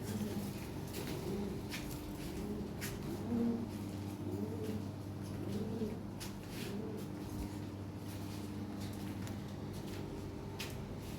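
Lahore pigeons coo softly in a low, rolling rhythm, several calls overlapping under a faint background hum, with light rustling and no talk.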